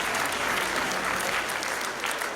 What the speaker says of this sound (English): Master Amokotie, clap for him, please.